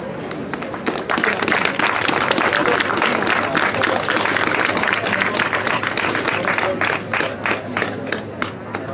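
Loud applause from a market crowd at an outdoor village fair in a Lahti harbour, celebrating Orimattila's Luhtikylä as village of the year, with steady dense clapping filling the whole stretch.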